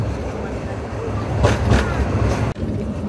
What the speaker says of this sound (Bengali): আর আমাদের ট্রেনটি এখন টঙ্গী জংশন থ্রু পাস করছে।